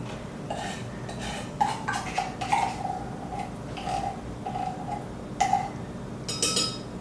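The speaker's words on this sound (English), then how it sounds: "you take 1 can sweetened condensed milk and pour it in the blender. Scoop all that creaminess in there." A spoon scrapes and taps inside a can of sweetened condensed milk, scooping it into a blender with a series of light metallic clinks and soft scraping, close and without talk.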